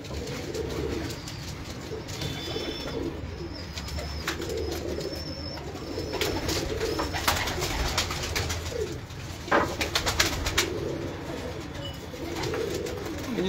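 Home loft pigeons coo in repeated low, throaty phrases throughout, with occasional rustling and a faint higher chirp, close by in a steady outdoor ambience.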